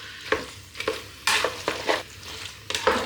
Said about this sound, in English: So you can hear a bit of a sizzle coming together now.